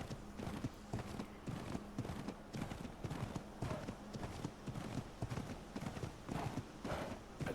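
Horse hooves clip-clop in the video game ARK on the Ragnarok map, a steady walking rhythm of hollow knocks over a constant game ambience.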